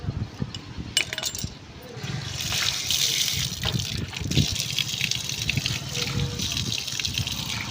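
Water gushes steadily for several seconds while a chicken is being slaughtered and cut, a continuous splashing pour with a few faint voices in the background.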